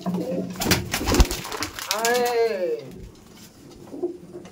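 Abluk pigeons coo in a loft, with one clear, rolling coo rising and falling near the middle, close by beneath a voice talking over the birds.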